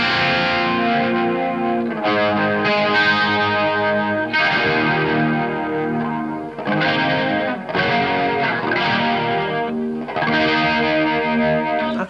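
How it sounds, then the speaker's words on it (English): Electric guitar run through a BOSS XS-100 pitch shifter pedal, producing an ethereal, chorus-like shimmering tone; sustained chords ring out in several loud phrases with short gaps between them. "That ethereal chorus-like tone, which is just all over all my favorite 80s tunes"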